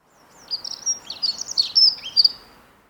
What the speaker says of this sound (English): The song is a rapid delivery of varied, high-pitched, almost squeaky notes.